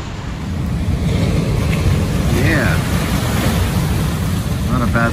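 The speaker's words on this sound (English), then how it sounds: "Watch the waves." Ocean waves crashing at Stonefield Beach make a steady, broad roar with wind buffeting the microphone, and a voice speaks briefly over the surf.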